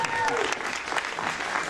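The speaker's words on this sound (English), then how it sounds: "Round of applause, please" An audience at a Kevin Eastman Q&A session bursts into dense, steady applause, with clapping filling the room and a voice briefly audible over it.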